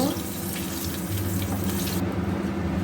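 Dry red chillies, cardamom, cinnamon and cloves sizzle in hot oil in a pan: a loud, steady hiss that carries on for a couple of seconds, with a low hum underneath.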